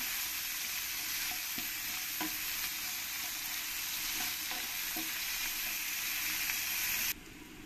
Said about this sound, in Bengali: পেঁয়াজগুলো দিয়ে ভালো করে আমি পেঁয়াজগুলো লাল লাল করে ভেজে নেব